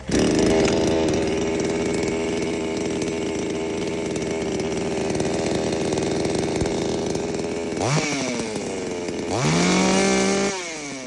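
A Green Forester 5020 petrol chainsaw runs loud and close, holding a steady high whine before revving up twice in quick surges near the end.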